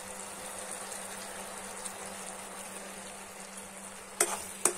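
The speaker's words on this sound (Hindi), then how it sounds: "इस तरह से उबाल आना चाहिए" Sugar wax mixture boiling in a pan, a low steady bubbling simmer with two sharp clinks of utensil on pan near the end.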